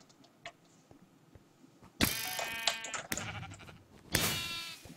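Sheep bleat in the Minecraft minigame Sheep Quest, with two loud, drawn-out bleats close by standing out over quiet game clicks and faint background sounds.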